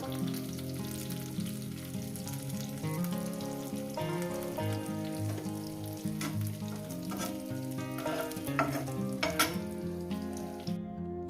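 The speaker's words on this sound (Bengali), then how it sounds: "মাছটাকে আমি ভেজে নিয়েছি মাছটাকে আমি তুলে নেব আর তার সঙ্গে আমি পেঁয়াজটাকেও তুলে নেব" Fish and onion fry in hot oil with a dense, continuous crackling sizzle, close and loud, while the pieces are stirred and lifted out of the pan; no talking.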